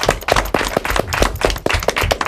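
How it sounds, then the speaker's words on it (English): A small group claps at an elementary school academic quiz match, a sparse, uneven patter of hand claps close by, loud and brief. "Big round of applause for yourselves."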